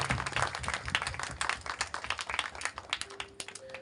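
An audience at a church service breaks into applause, a busy patter of many hands clapping at moderate distance, uneven and somewhat faint, with a faint tone sounding briefly near the end.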